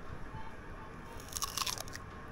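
Biting and chewing on cooked snails, a dish of coconut-milk stewed kuhol, with a brief cluster of close crunchy bites and crackles over a quiet background.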